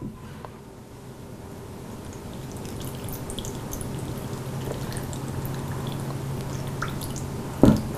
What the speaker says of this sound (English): I've already mixed 2 parts of vinegar to 1 part of water in a big pitcher, and we are going to fill this